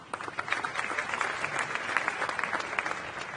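Audience applause after a speaker introduction at a Reagan Presidential Foundation national security event: steady, dense clapping from a crowd in a hall, moderately loud and continuous throughout.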